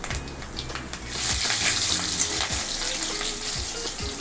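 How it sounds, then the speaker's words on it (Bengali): Nigella seeds and green chillies sizzle loudly in hot oil in a pan for a Bengali snake gourd and egg fry, a continuous crackling hiss with a few sharper pops and light stirring clinks. "তেল গরম হয়ে গেছে, এর মধ্যে হাফ চা চামচ মতো কালো জিরে ফোড়ন দিয়ে দিলাম।"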